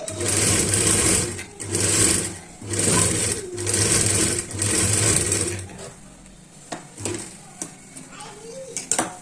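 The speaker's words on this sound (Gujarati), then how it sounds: "આની ઉપર ધાર સિલાઈ કરશું" A sewing machine stitches the edge of a katori blouse in loud, close bursts of rapid whirring, four runs separated by short pauses, then quieter handling of fabric and small clicks.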